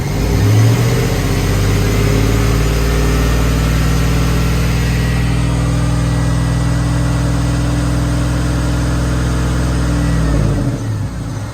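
A car engine is revved and held steady at about 2,500 RPM during fuel injector testing, a loud, even mid-pitched drone lasting around ten seconds before dropping back toward idle.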